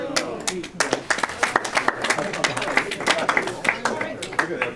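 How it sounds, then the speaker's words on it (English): A crowd at a Rotary club meeting claps in a steady burst of applause, dense and lively, with a few voices mixed in. "Thunderous applause."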